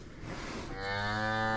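A calm cow on a farm during calving season gives a single long, loud moo close by, rising and holding steady with no talk over it.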